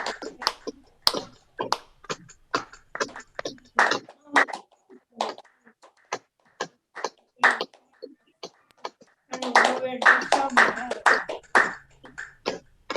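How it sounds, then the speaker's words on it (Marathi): Rhythmic hand clapping during a group exercise session, a steady run of sharp claps repeated many times, with a denser burst of claps toward the end. "100 टाळ्या वाजवू."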